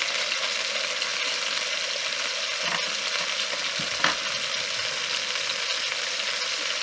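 Pork loin steak frying in a pan, a loud, dense, unbroken sizzle close up, with one or two faint clinks partway through and no talking.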